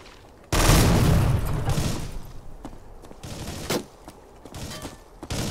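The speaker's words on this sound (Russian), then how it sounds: "Не знаю, что я взорвал, но пока взрывается, буду" A loud boom hits, then a rolling series of bursts and pops crackles on, video game explosions going off one after another.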